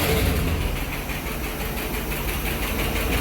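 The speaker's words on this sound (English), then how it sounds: "I'm kind of surprised to hear so much noise coming from the engine" A 1967 Lincoln engine idles steadily up close, with a rapid ticking clatter from noisy lifters over a dense, even rumble and no one talking.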